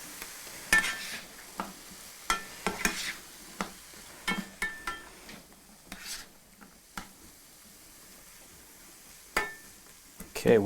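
Vegetables sautéing in a pan with a little water: soft sizzling and steaming under scattered sharp clicks and scrapes of a utensil stirring against the pan, fairly close and moderately quiet.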